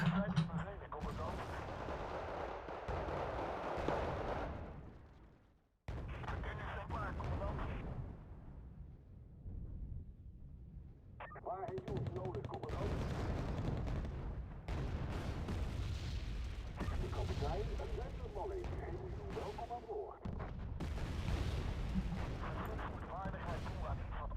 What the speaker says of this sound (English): Mortar, we need smoke!